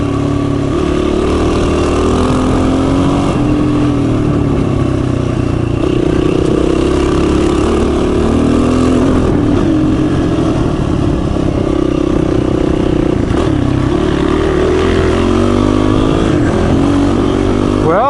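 Supermoto motorcycle ridden off-road over dirt, rocks and roots: a loud, continuous mid-pitched engine drone with fluctuating revs and rough throttle changes, close to the listener for the whole stretch.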